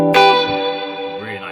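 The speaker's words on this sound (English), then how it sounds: "So you have obviously the bridge split, which has this" A single chord on a PRS Private Stock electric guitar using the bridge split coil rings out and slowly decays with a bright, sustained tone.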